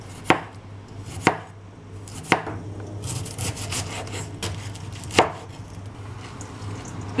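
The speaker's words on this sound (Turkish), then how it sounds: "İnce ince kırıyorum." Red cabbage is finely sliced on a board. Four sharp knife chops land at roughly one-second intervals, and a rapid run of softer shredding strokes follows between them, all close by.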